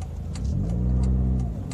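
A Dodge Avenger's engine revs up briefly and climbs in pitch, heard close and steady for under two seconds with no voices.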